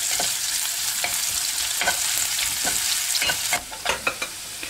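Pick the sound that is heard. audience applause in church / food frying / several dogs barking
food frying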